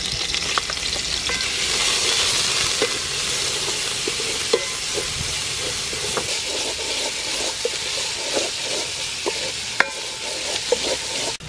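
Onion and broccoli frying in hot soybean oil for a palm fruit curry, a loud steady sizzle close up with occasional light clicks and taps of stirring throughout.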